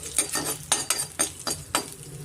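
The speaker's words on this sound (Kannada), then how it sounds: "ಸ್ವಲ್ಪ ಮಿಕ್ಸ್ ಮಾಡಿಕೊಟ್ಬಿಟ್ಟು" Rice with salt and turmeric being stirred in a hot pan, with a utensil scraping the pan in a series of distinct, close, fairly loud strokes over a soft sizzle, with no talking.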